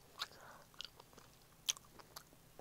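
Biting and chewing a slice of gummy candy pizza, with a few sharp close bites and soft, sticky chewing sounds spread across a quiet background.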